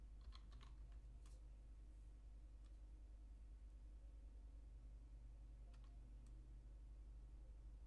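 Quiet keystrokes on a computer keyboard tap in a few scattered clusters over a constant low electrical hum while a Linux install command is entered on CentOS 7.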